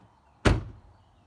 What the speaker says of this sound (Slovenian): Vrata na avtu pa delajo lop, lop, lop